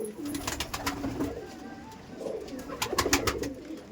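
Pigeons cooing in a loft: repeated low, soft coos rising and falling in a slow rhythm, with faint rustling and chirps behind them and no talk.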